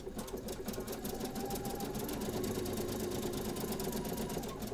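A sewing machine runs a zigzag stitch at 4.5 width along a rolled fabric hem, a steady, close, fast mechanical whir with rapid rhythmic needle ticking throughout.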